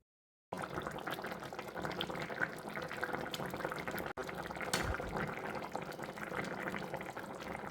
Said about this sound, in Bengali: এবার দিয়ে দেবো ঝোলের জন্য প্রয়োজন মতো গরম জল।